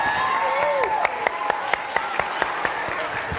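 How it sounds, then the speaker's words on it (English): Scattered applause for a church service production, with sparse individual claps ringing out over a steady murmur and a brief voice early on. "Let's give these guys a round of applause."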